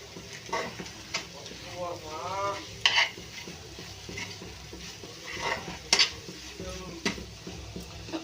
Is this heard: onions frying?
yes